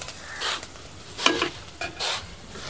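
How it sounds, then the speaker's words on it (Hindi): Onions frying in a pan for a Bengali-style mustard fish curry; soft sizzling with a few scraping stirs of a spatula, quiet and close, no talking. "प्याज को अब अच्छे से लाल करेंगे"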